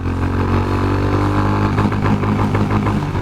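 Honda CB350 RS motorcycle engine pulling hard through second gear, a loud, steady, throaty drone that builds continuously across the whole stretch with no voices over it.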